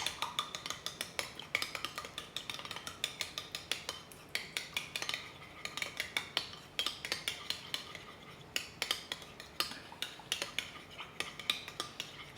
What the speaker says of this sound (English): we're gonna mix this up real good